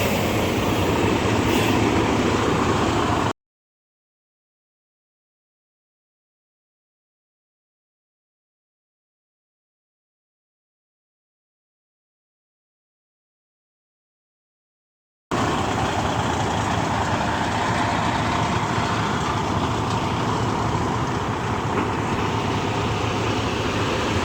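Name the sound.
semi truck pulling up while backing to a receiver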